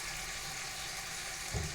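Tap water running steadily as tomato is rinsed from a container in a home kitchen, a faint continuous splashing wash with a small clunk near the end.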